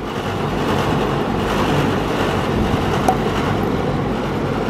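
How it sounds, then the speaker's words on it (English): An unbalanced outdoor HVAC condenser unit at a Houston home runs noisily, giving a steady, loud, rumbling drone with a rough broadband whoosh that holds constant throughout. "So let's just sit and listen to it so you can hear what a condenser should not sound like."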